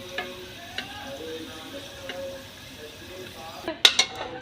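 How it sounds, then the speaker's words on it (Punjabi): Fried potatoes scooped out of hot oil in a kadai wok, with soft sizzling and scraping under a run of light metallic clinks from a ladle, ending in a cluster of sharper clanks near the end. "ਆਲੂ ਆਪਾਂ ਸਾਰੇ ਇਸ ਤਰ੍ਹਾਂ ਕੱਢ ਲੈਣੇ ਹੁਣ"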